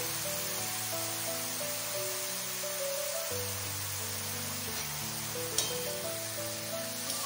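Half a cup of green garlic sautés alongside eggplant in a pan for methi vangi bhaji, a steady soft hiss of frying under a faint tonal hum, with one small clink near the end.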